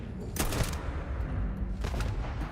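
Rocket fire in a Starfield multiplayer match: dense bursts of explosive blasts, one cluster early and another near the end, over a constant rumbling battle din with faint voices mixed in.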